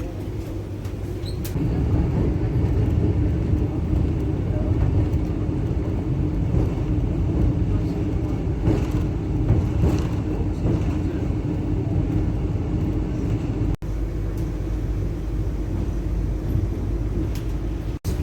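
Interior of a Vande Bharat Express train running from Mumbai to Shirdi: a steady loud low rumble and rolling rail noise throughout, with a couple of brief dropouts near the end.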